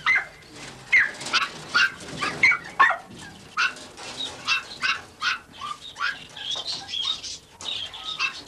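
Puppies at feeding time let out a rapid, overlapping string of high-pitched yips, whimpers and squeals, loud and close, in short excited bursts throughout.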